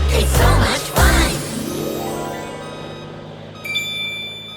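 Construction truck backing up on a job site, a loud rumbling engine swell followed by a sustained droning tone, then a few bright beeping notes near the end.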